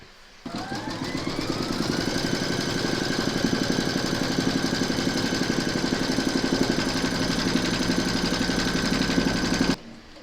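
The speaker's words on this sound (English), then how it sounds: "Pop your hoop into your machine and stitch round number 3 to secure it" Stitching a securing round on a notebook cover held in the hoop, an embroidery machine hums with a loud, even, rapid needle rhythm for about nine seconds before stopping.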